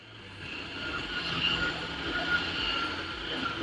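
A Balzano cold press juicer runs while pressing apple pieces, producing a steady, fairly quiet motor drone with a faint whine that holds constant throughout.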